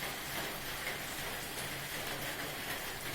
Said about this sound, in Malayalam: കണ്ടില്ലേ മഴ?